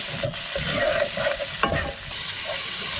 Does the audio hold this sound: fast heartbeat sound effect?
no